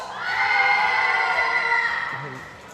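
A team of shooters at a European rifle championship shouts together after a countdown, one loud sustained collective yell that fades out after about two seconds, with a voice heard near the end.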